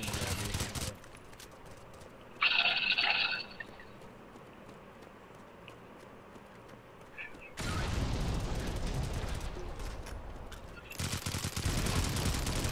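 Video game team battle with dense gunfire, bursts of heavy shooting and booming blasts coming in loud sections with quieter stretches between, and voices talking over it.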